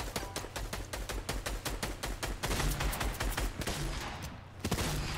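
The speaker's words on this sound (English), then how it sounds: "I think I know who's shooting at you." Rapid bursts of gunfire from a Fortnite Zero Build duos match, dense repeated shots in quick rhythm for several seconds, loud and continuous with a brief dip near the end.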